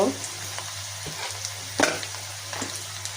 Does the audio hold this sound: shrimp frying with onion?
yes